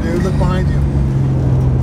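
A 1970 Chevy Nova Yenko/SC runs hard with a loud, steady low engine drone close by, while someone talks over it.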